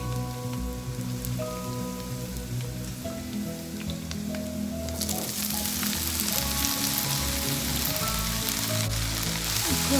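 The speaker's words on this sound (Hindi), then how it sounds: "हल्का सा फ्राई कर लेंगे सब्जियों को" Sliced vegetables and carrots fry in a pan with sautéed garlic, a steady sizzle that bursts into a louder, denser crackle halfway through and keeps hissing to the end, with no talk.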